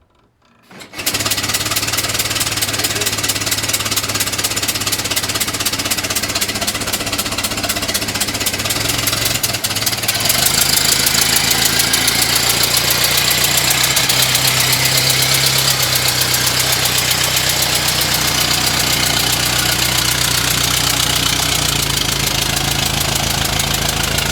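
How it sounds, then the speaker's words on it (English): After a brief silence an engine catches and settles into a steady, loud, rough idle with a rhythmic knocking chatter that continues throughout. "Okay, this car seems to hot start pretty good."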